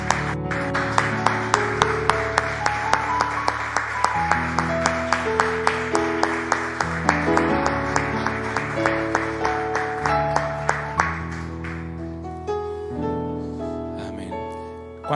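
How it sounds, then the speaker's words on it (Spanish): Church congregation claps in a steady, even beat alongside bright keyboard music during a sermon on repentance, the rhythmic claps close and regular before thinning near the end. "Le damos un aplauso al Señor"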